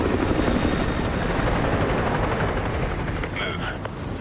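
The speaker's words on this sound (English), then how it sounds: "Enemy helo patrolling the perimeter." Loud, continuous rotor thrum of a helicopter flying overhead in Modern Warfare 2, a dense throbbing roar filling the scene, with a brief radio-like tone near the end.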